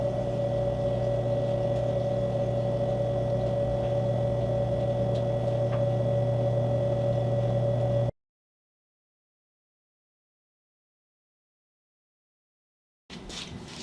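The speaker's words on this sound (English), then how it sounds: "Motors are all running." A CNC-converted PM-30MV milling machine's motors run at a 10-inch-per-minute feed, a steady electric hum and whine holding constant for about eight seconds, then cutting to silence before resuming briefly.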